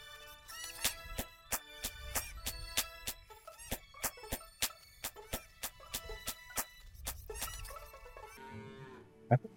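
Cattle low repeatedly in the farming game Farmer's Dynasty, a steady run of loud moos mixed with sharp rhythmic clicks or knocks, close and with no talking over them.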